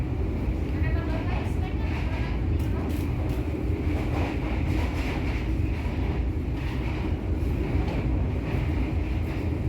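Steady, loud rumble of an Argo Merbabu passenger train running from Bekasi toward Cirebon, heard from inside the carriage as a continuous low roar with faint rhythmic clatter and a high hiss layered over it.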